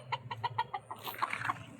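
A chicken clucking close by in a quick series of short, evenly spaced clucks, followed by a few higher, louder calls, faint overall with no talk.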